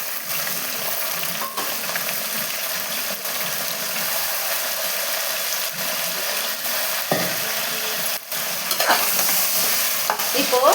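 Cut beans and carrots stirred and frying with onions in a pan for veg dum biryani: a steady, close scraping and sizzling with occasional clicks of the spoon against the pan, continuous throughout.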